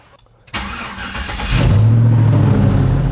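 An LS-swapped Squarebody C20 truck with a Holley EFI conversion cranks briefly after a quiet moment, catches and fires, then settles into a loud, steady running rumble that builds slightly and holds close by.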